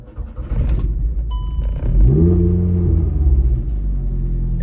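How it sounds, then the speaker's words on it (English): A VW MK8 / Audi 8Y car with an ethanol flex-fuel system starts up: the starter churns, the engine catches with a loud rising rumble, then settles into a steady idle close by. "We're gonna start the car."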